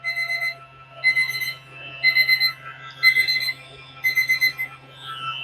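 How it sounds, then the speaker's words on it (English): A kitchen timer alarm rings in repeated bursts of high electronic beeping, about once a second, loud and close over a steady low hum, with no talk. "there's my timer"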